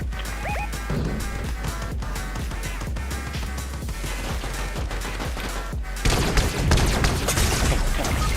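Sniper shot in the game Fortnite, one loud sharp report over a steady bed of game music and effects, with a burst of louder, denser gunfire and action noise in the final seconds.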